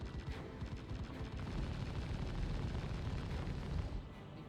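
Neutron repeater weapons fire steadily in the Star Citizen space game, a dense, continuous low rumble of blasts that holds loud for about four seconds and then eases off.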